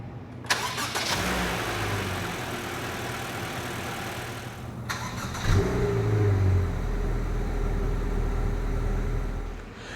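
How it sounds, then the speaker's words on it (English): A 2020 Honda HR-V 1.8 i-VTEC engine cranks and fires up via push-button start, settling into a steady idle with a brief rev, close by and fairly loud. "hit this engine start stop button to fire it up"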